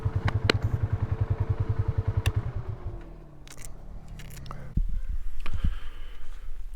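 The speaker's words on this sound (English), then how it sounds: "see me do some donuts on the ATV here" An ATV engine doing donuts putters in a rapid steady pulse, then the note shifts and falls away before a louder rough revving burst returns with clatter, heard close outdoors.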